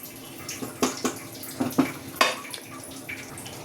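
Water splashing into a cooking pot for a thin fish curry with bottle gourd and potato, a few soft uneven pours and splashes, fairly close and quiet.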